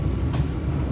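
The Jaka Tingkir New Generation economy passenger train running between Jakarta and Yogyakarta makes a steady, loud rolling rumble with faint wheel clatter, and no one speaks.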